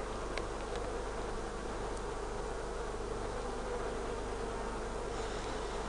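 Honey bees humming in an opened top bar hive, a continuous soft buzzing with occasional bees flying close.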